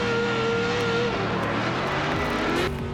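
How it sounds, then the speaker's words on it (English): A white and pink BMW drift car screams down the straight at a Formula Drift event, its engine wailing loud and near in a sustained high-revving howl with brief pitch shifts, no voices over it. "Screaming down the straight in that white and pink BMW with another beautiful initiation."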